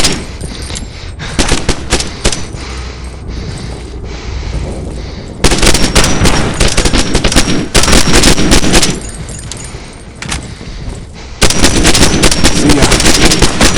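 Gunfire in a mobile shooter video game: loud bursts of rapid automatic shots and single cracks, coming in dense clusters with brief quieter gaps between volleys.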